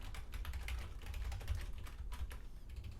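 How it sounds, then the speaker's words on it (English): Keys clatter on a computer keyboard as random text is typed in quick, uneven bursts of close, crisp clicks that continue without pause and without any voices. "And I'm going to just type some random text."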